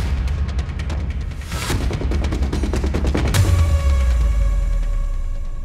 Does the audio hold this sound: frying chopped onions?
no